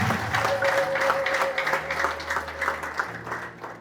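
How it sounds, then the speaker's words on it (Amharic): A church congregation claps and applauds together during a prophecy service, a dense, loud patter of many hands that swells and then slowly thins, with a sustained tone and faint voices underneath. "ለጌታ ክብር አጨብጭቡለት።"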